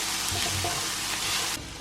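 Close, steady sizzle and crackle of vegetables frying in a dry pan without oil, with faint scraping as they are stirred, cut off abruptly near the end.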